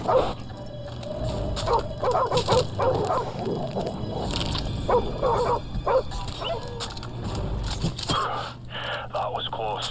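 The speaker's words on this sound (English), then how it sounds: "there's like so many dogs that just rush in for you" Dogs barking and yelping in the Chernobyl sniper mission of Call of Duty Modern Warfare Remastered, rapid overlapping barks and whimpers close by, mixed with game noise and someone talking throughout.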